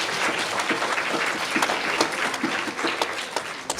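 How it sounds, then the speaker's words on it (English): Audience applause for performers at a Gurudev Jayanthi and Mother's Day event, dense and steady clapping from a crowd filling the room throughout, without speech. "Give them a big round of applause."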